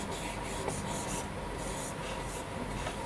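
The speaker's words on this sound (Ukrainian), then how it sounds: "це нам потрібно як можна більше додати тоненьких ліній" A pencil draws thin lines on paper in quick, short scratchy strokes, close and fairly quiet, with no speech.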